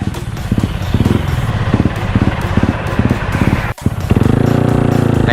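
A motorcycle engine roars continuously while riding fast, loud and close, with wind rush and rising and falling pitch through gear changes and a brief dip near the end.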